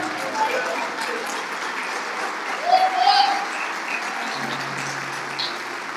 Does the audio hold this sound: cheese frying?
no